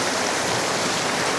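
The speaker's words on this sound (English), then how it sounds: "Right below the waterfall yet again." A mountain stream rushes just below a waterfall in autumn, a dense, steady roar of white water close by, with no voices.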